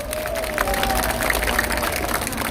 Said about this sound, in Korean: 그래서 박수 한번 주세요